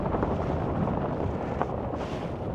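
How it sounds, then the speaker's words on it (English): Strong wind over sand dunes, blowing sand about, pounds the microphone with a constant heavy low roar and uneven gusts. "Oh, it's so windy."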